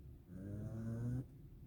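A pug lets out a single drawn-out nasal snore, a buzzing, rattling breath nearby that stops abruptly, in an otherwise quiet indoor space.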